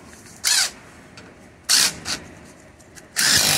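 A power tool drives a bolt during a car brake job, giving three short, loud, buzzing bursts separated by quiet pauses, with no talking.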